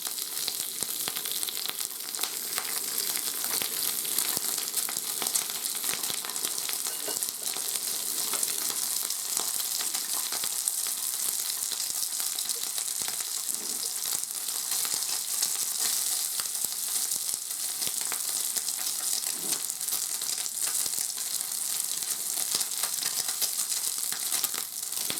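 Salmon fries in oil in a frying pan over a gas flame turned down a little, giving a steady, close, even sizzle that continues unbroken throughout.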